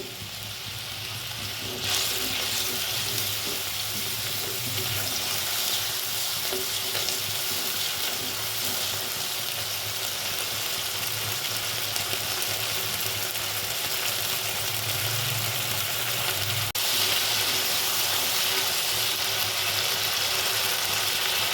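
Spice paste for a bottle gourd curry, seasoned with salt, turmeric and a little sugar, sizzles and fries steadily in a hot pan. The frying is continuous and close, with occasional stirring and no talking.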